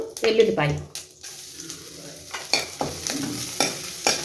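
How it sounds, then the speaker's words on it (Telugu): Garlic, dried chilies, curry leaves and black pepper fry in hot oil for pepper rasam, a light sizzle broken by repeated scraping stirs of a spoon in the pan. "వెల్లుల్లిపాయ కొంచెం బ్రౌన్ కలర్ వచ్చేదాకా కొంచెం ఆయిల్లో వేగనివ్వాలి"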